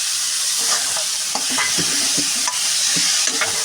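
A spatula stirs banana flower curry with salt and spices in a hot frying pan. Repeated close scraping strokes sound over a constant sizzle, with no talking.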